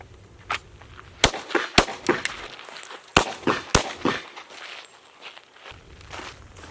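Pistol shots fired at two targets while backing up on a shooting range: four sharp, loud reports in two quick pairs, with footsteps and shuffling between them and no talk.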